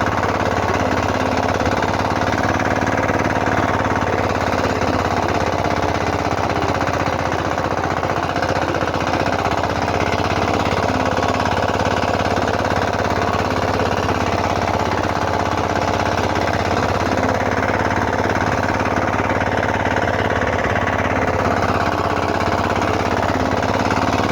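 A walk-behind tractor tills soil for the first time, its engine hammering loud and unbroken close by for the whole stretch, with a steady harsh rattle and no voices.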